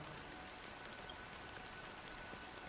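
Fine drizzling rain falls in the video game Honkai Star Rail, a soft, continuous, even hiss of droplets with no other sounds.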